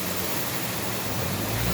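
A roadside waterfall or runoff stream pours down Boyes Drive above Kalk Bay, Cape Town, after heavy rain, giving a steady, dense, close rushing wash of water with no pauses.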